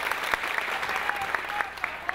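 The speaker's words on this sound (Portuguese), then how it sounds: "Pessoal, vamos aplaudir o Panchlineiro." An audience applauds a rapper being introduced at a rap battle, steady clapping with some sharper individual claps standing out and a voice faintly audible beneath.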